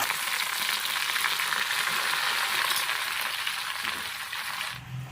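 Onions, chana dal and chenchali leaves fry in a pan, giving a steady, close sizzling hiss that fades slightly near the end, with no voices.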